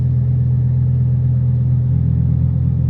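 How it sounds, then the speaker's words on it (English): A rear-engined supercar's engine drones steadily while driving, a loud low-pitched rumble heard from inside the cabin, continuous with little change in pitch. "And just obviously the noise from the engine."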